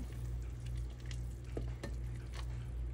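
Soup being served onto a plate for Guatemalan salpicón with beef eye of round, with soft clinks and scrapes of a ladle against dishes over a steady low kitchen hum.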